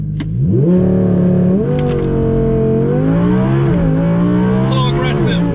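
Audi R8 with a crackle exhaust tune launching under launch control for a 0 to 60 run: a loud, close engine roar climbing steeply in pitch through several quick gear changes, with sharp crackles near the end.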